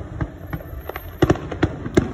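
Distant fireworks bursting at a Target and Margaritaville display, a series of sharp cracks and thuds spaced irregularly, several clustered near the end, fairly faint over a quiet background.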